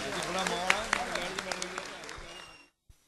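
Audience applause at a live Punjabi music show; a crowd claps steadily with a few sharper individual claps standing out, under some voices, fading out after about two and a half seconds.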